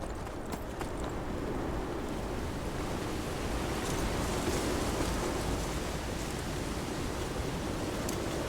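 Ash storm wind sweeps across Skyrim in a steady, dense roar, a constant broadband rush that holds an even loudness for the whole stretch with no voices over it.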